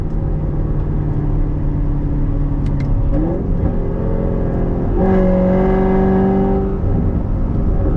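A Chevrolet Corvette C7 Z51 downshifts, and its engine revs up in a loud, close roar with rising and falling pitch under a steady drone, then settles back.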